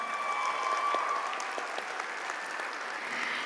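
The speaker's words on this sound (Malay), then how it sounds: "Terima kasih atas tepukan dan lambaian yang diberikan sebentar tadi" Graduates in a university convocation hall give a sustained round of applause, a broad, even wash of clapping at moderate loudness, with a faint tonal hum running underneath.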